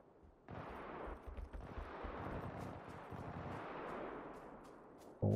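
Gunfire in PUBG on PS4 sounds as a sustained burst of rumbling shots and low booms with a broad noisy wash, fairly distant and muffled, ending with a sharp louder hit.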